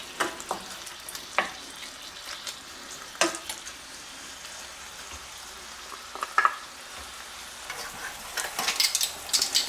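Tomatoes and green onion heat in a pan, giving a quiet soft sizzle broken by scattered stirring clicks and scrapes, with no talking.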